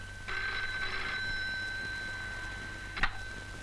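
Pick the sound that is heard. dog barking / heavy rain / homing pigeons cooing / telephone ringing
telephone ringing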